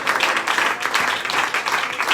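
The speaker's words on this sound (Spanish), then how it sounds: "Denle un aplauso a mí" A church congregation applauds during a service, a fairly close, steady patter of many hands clapping with slight swells in intensity.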